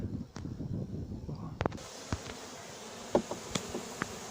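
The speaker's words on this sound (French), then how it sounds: "je peux filmer mon essaim là qui est dans la boîte" A honeybee swarm buzzes softly and steadily inside a box, with a few sharper clicks and taps scattered through; the hum stays low and close.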